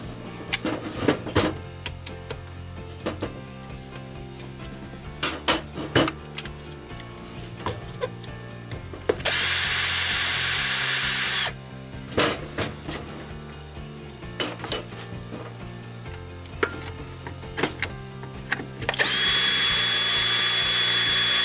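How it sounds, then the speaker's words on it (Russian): A power drill unscrews three bolts on a grass trimmer's cover. Two long, loud whirring bursts of the drill stand out amid clicks and clatter from handling the metal parts, with no talking. "Откручиваем три болта, которые"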